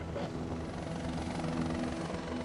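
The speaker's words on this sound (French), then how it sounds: "La Marine engage un hélicoptère pour un exercice à taille réelle." A Navy helicopter flies over a rescue boat at sea during a full-scale exercise, its rotor and engine giving a loud, continuous, steady drone with no talk.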